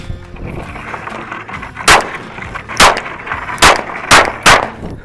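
A Glock 17 9mm handgun fired rapidly: five loud, sharp gunshots spaced roughly a second apart, each a hard crack with a brief echo, close and dominant over quiet background noise.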